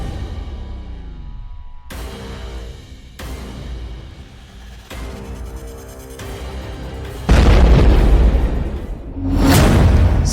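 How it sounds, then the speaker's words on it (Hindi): Car bomb blast on the Kerch Bridge in a news broadcast: a series of abrupt booming bursts cut in one after another, the last ones loud, broad and roaring, with a rushing swell near the end. "इस कर्च ब्रिज को धमाके से उड़ाने की ज़ेलेंस्की की कोशिश की तस्वीरें"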